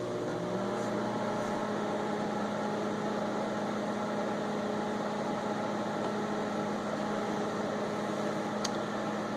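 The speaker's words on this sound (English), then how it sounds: "There it is before I microwave it." A microwave oven running while heating a Moon Pie, a steady droning hum with an even mechanical whir, close and constant for the whole clip with no talk.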